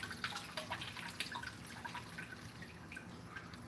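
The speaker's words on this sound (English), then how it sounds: "you just want water barely trickling into the drain" Water trickles and drips through a barely cracked gate valve into a lagoon drain, a faint, uneven patter of small splashes and droplets running steadily without talk.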